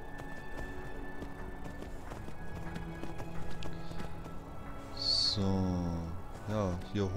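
A horse gallops in Skyrim with rhythmic hoofbeats beneath game background sounds, then louder animal calls and a whinny near the end, and someone talks in between.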